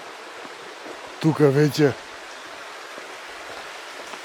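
The Babuna river flowing, a steady broadband rush of water throughout, with someone briefly speaking over it.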